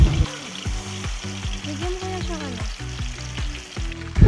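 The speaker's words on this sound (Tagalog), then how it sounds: "Put the marinated chicken wings in the frying pan. Make sure that the chicken are deeply fried in the pan." Marinated, breaded chicken wings crackle and sizzle in oil in a frying pan, with a steady close sizzle and small bursts of popping.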